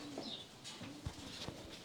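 Racing pigeons at a one-loft race in Dubai coo softly in short, faint bursts against a quiet background.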